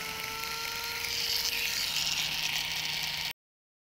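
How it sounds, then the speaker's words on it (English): An electric nail file grinds away the lifting area of an artificial nail during a backfill, a steady high-pitched whirring drone up close that runs for about three seconds and then cuts off. "file off the area that is lifting"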